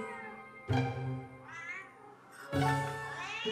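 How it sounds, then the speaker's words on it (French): A male cat meows in a carrier on the way to the vet, two long, close, clear wavering cries with a short pause between them. "he meows completely differently. And this is what it sounds like then"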